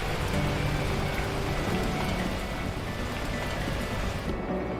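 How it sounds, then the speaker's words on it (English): Heavy, torrential rain in the video game Beacon Pines, a loud, dense and continuous downpour that fills the whole clip with no speech over it. "Damn, that is loud rain."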